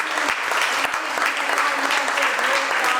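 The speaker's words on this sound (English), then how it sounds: "we'll give everybody a round of applause" Steady, dense applause from an audience at a community panel event, loud and continuous throughout without pause.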